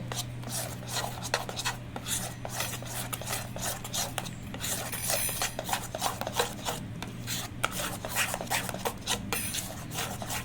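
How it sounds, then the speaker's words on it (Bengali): Oil is rubbed around the inside of a cake bowl by hand, producing repeated close scraping and rubbing strokes in an uneven rhythm over a low steady hum. "আমি এই বাটিতেও তেল লাগিয়ে নিচ্ছি।"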